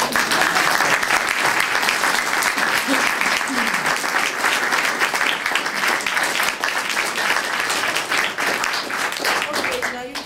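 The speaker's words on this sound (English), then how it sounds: "I want you to give her wonderful applause" Sustained audience applause at a book launch for a tap-dance book, steady dense clapping filling the room for about ten seconds with some voices mixed in.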